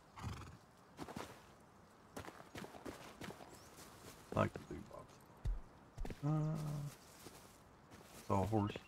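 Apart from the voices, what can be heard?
horse neighing and hooves in video game Rust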